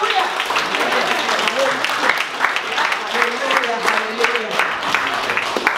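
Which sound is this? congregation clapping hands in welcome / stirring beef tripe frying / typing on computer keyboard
congregation clapping hands in welcome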